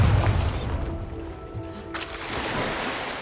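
A Bombarda blasting spell goes off in Hogwarts Legacy, a deep booming blast at the start that fades into a low rumbling wash, followed by a second rushing burst of noise.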